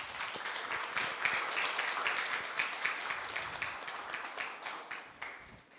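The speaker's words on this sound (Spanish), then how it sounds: "Un aplauso a la maestra Johanna." A seated panel audience gives a moderate round of applause for a panelist at a science talk, a fairly faint, even patter of many hands clapping throughout.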